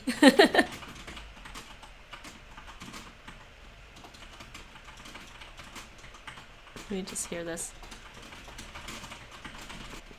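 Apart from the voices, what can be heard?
typing on a computer keyboard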